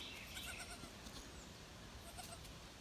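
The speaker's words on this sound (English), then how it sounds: "That's the goats." Goats on a homestead bleat in a quiet morning setting, several short, faint calls scattered over a soft steady background.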